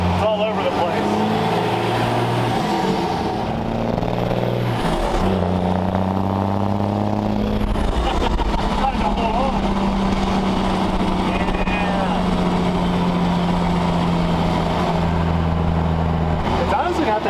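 A Cummins-swapped 1965 Ford F-600 truck with straight exhaust and tall semi stacks cruises, its loud, steady diesel drone filling the cab heard from inside, with gear changes shifting the pitch. People talk over it.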